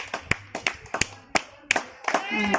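Sharp hand claps ring out at a temple water spring, about six close claps at an uneven pace, with a voice speaking over the last part.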